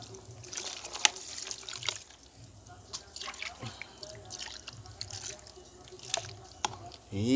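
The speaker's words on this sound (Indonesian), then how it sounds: "Kita cuci dulu ya. Cuci sampai bersih teman-teman." Water trickles and drips while a large toy sand truck is washed, with scattered splashes and small clatters of the plastic toy, fairly quiet and close, ending in a louder rush of water.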